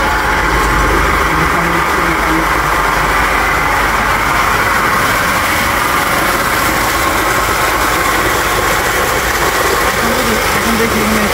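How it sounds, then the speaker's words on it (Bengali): A water pump motor switched on by an IoT app controller runs with a steady, loud mechanical hum and whine, constant and close, with no talking. "তো আমরা যখন স্টার্ট চালু বাটনে প্রেস করবো তখন মোটর চালু হয়ে যাবে।"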